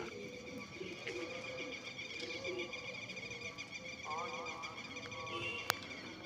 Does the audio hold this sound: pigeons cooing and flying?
yes